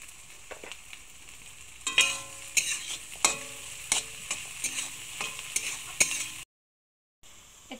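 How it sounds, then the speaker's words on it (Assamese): Potatoes frying in a pan for an Assamese-style pasta dish, stirred with repeated scraping strokes over a steady sizzle, each stroke a sharp close scrape, before a brief cut to silence near the end. "এতিয়া আলুখিনি অলপ সময় মই ভাজি লম"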